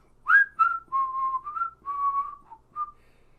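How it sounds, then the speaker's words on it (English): A person whistles a short, wandering tune alone, with a series of sustained notes sliding between pitches, clear and close. "I'll just whistle while this loads."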